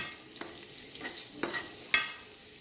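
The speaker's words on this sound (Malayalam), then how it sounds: "നന്നായിട്ട് മിക്സ് ചെയ്ത് ഫ്രൈ ചെയ്തെടുക്കാം" Quail egg al faham mixture fries in a pan with a steady, soft sizzle, broken by a handful of light, sharp taps and scrapes from stirring at a quiet, close distance; no voices.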